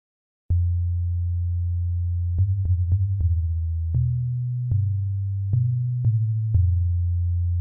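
Ableton Live Wavetable synth playing its default patch: a clean, steady sustained tone with a series of short note changes and retriggers, mostly low-pitched, alone with no voices.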